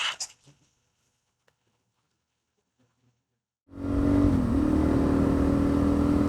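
A motorcycle riding home along a road after a muddy day: near silence, then the engine cuts in abruptly as a loud, steady drone that holds without a break.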